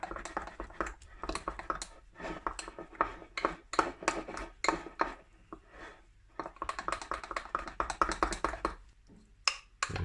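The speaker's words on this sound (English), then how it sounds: "Get it with a spoon, stir it in. Make a good stirring into it." A spoon stirring a pizza dough mixture in a bowl, giving quick bursts of clicking, scraping taps close by, pausing briefly midway before resuming, with no talking.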